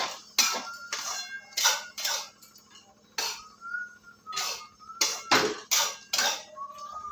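A metal spoon scraping and clinking against a pan while maida flour is stirred and roasted for Diwali laddoos, a series of irregular close scrapes and taps with short pauses between strokes.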